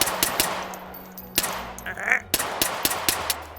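Gunfire in the VR shooter H3VR: a string of sharp, close gunshots in quick uneven bursts, with a held tone and mechanical clicks between shots.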